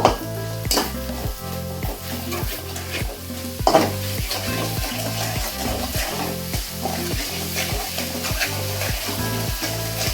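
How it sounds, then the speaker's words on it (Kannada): Tomatoes fry in oil with salt and turmeric for a red fish curry, giving a constant sizzle under a steady, rhythmic run of stirring and scraping in the pan. "ಟೊಮ್ಯಾಟೊ ಫ್ರೈ ಆಗುವವರೆಗೂ ಇದನ್ನು ಫ್ರೈ ಮಾಡ್ಕೋಬೇಕು"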